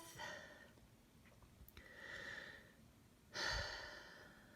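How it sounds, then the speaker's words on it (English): Quiet, close breathing with two slow, deep inhales and exhales, the second breath fuller and louder, heard alone in a hushed room. "let's go ahead and take a moment to take a deep breath"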